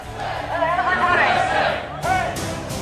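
Trump supporters chant slogans outside the Washington governor's mansion, a loud crowd of rhythmic, overlapping shouting voices that surges and swells, with a voice speaking over it.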